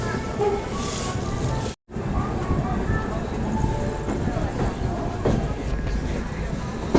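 The Andhra Pradesh Express rolls toward the diamond crossing on the outskirts of Nagpur, a steady close rumble of wheels and carriage noise with a brief dropout near the start, continuing to the end.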